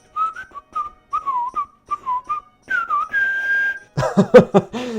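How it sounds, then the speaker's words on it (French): Someone whistles a short, wandering tune in clear, close notes with brief pauses, then a burst of other noise at the end. "je siffle n'importe quoi, c'est normal"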